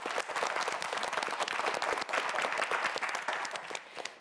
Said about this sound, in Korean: 우리 2라운드를 앞두고 있는 네 학생 모두를 위해서 큰 박수 부탁드립니다.